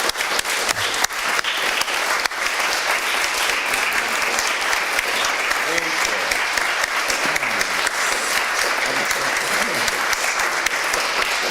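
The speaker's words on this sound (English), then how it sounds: "But let's give them a great round of applause." Sustained audience applause for the speakers at a Sunday forum, loud dense clapping from a large room that carries on steadily, with a few voices faintly audible underneath.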